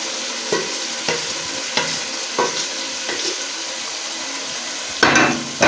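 Chickpeas and black-eyed beans being stirred and fried in spices in a pan, with a steady sizzle broken by regular scraping strokes of a spoon about every half second and a louder clatter near the end.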